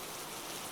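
Steady rain falls with an even, soft hiss and no distinct drops or voices standing out.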